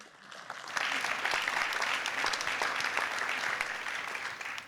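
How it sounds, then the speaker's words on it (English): Audience applause in a plenary session of the European Organic Congress, building quickly after a quiet start into sustained, even clapping that holds steady and fades slightly toward the end. "Laure, an applause for her, please."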